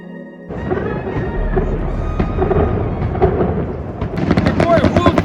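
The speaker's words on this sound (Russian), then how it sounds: "Салют! Днем! Я не понимаю, зачем он днем." Daytime fireworks over seaside Benidorm, Spain, making a loud, continuous rolling rumble like distant thunder, with sharper crackling bursts building toward the end.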